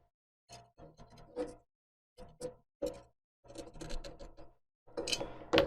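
Small nuts are tightened onto bolts with lock washers during a Sunfounder Zeus robot car build, giving short bursts of clicking, ratcheting mechanical sounds separated by brief pauses, close and fairly quiet.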